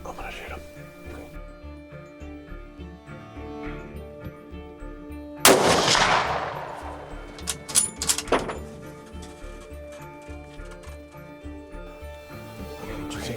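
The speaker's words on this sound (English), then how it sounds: "I'm gonna shoot him." A single loud rifle shot during a whitetail deer hunt rings out near the middle, its sharp crack followed by a short decaying echo, with quiet background and other noise around it.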